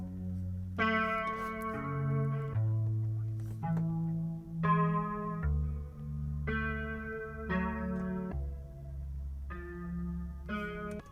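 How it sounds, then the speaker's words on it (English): Slow electric guitar chords in an Afrobeat track, processed with a halftime effect, ring out one after another, dragged and stretched with a smeared, echoing tone, loud and continuous without any talking. "I started with the guitar right here."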